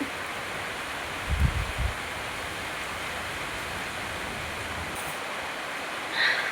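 Steady rain falls outdoors beside a parked motorbike, a constant broadband hiss throughout, with a brief low thump near the start.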